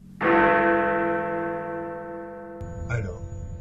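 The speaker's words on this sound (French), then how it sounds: "Le moment où il décide du vainqueur, un son de cloche se fait." A bell sound effect strikes once with a loud attack and a long, ringing decay, then a brief whooshing accent and light background sounds follow.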